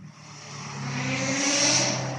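A car with a non-stock exhaust accelerates hard on the circuit at a Cadwell Park track day, its engine note rising and swelling as it approaches and passes, loud and raw with a whooshing edge and no voices.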